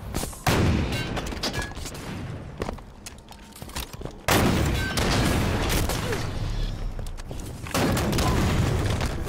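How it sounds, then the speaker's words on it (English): Rocket launcher fire and explosions from the Halo 5 video game, dense booming blasts and gunfire bursts going off repeatedly and loudly throughout, with heavy rumbling in between. "Is that supposed to be a remastered version of the rocket launcher?"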